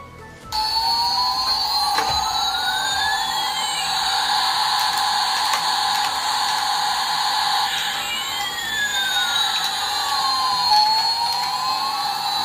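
Toy NASA space shuttle switched on, giving a loud, steady electronic engine whine with rising and falling synthetic sweeps that repeat, running continuously from just after the start.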